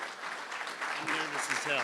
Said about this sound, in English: Can we have a big round of applause for Jim?